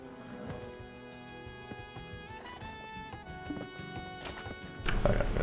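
A horse mount trots along in the online game Black Desert Online, its hoofbeats soft and regular beneath game music, rising to a louder clatter in the final half second.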